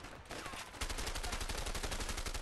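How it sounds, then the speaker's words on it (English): Rapid automatic gunfire rattles in a dense, continuous burst in the video game A Way Out, loud and close, with a short lull near the start before the stream of shots resumes. "Am I being shot? Oh, I am."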